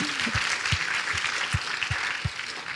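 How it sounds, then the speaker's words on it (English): An audience claps together, dense and even, while a few low, rhythmic thumps pulse beneath the applause for its whole short length. "Yeah, you can clap, of course."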